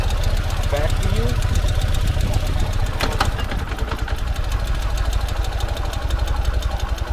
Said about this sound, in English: we're in third gear at idle, believe it or not